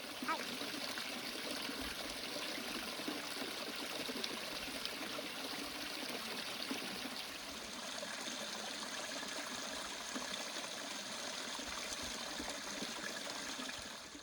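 Water trickles and splashes steadily on a shady desert mountain trail in the Catalina Mountains as a balaclava is soaked, a continuous close rushing wash with no talk over it.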